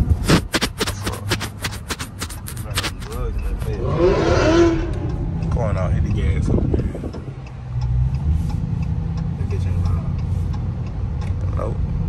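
A car engine revs loudly up close, its roar swelling and fading beneath overlapping voices and some clattering.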